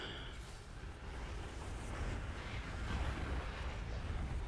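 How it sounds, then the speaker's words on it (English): Steady roaring rush of falling water from a waterfall in the Outer Wilds space exploration game, a broad continuous wash that swells slightly louder toward the end, with no talk. "Still waterfalls, though."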